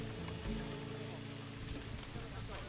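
Steady rain patters down densely and evenly in the video game Planet Zoo, a continuous close wash of drops with no break and a faint murmur beneath it.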